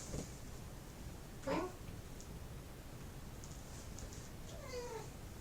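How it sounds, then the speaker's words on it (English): A quiet room with a faint steady hiss, broken by two short cat meows, one early and one near the end, fairly soft and distant. "He mewed."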